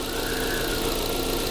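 A used car's engine idles with a close, steady mechanical hum and a faint, even knock running underneath.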